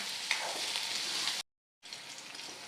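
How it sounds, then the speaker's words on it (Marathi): Onions fry until reddish in hot oil with a soft, steady sizzle. Light stirring runs under it, and a short silent break falls midway. "कांदा व्यवस्थित असा लालसर असा आपल्याला तळून घ्यायचा आहे"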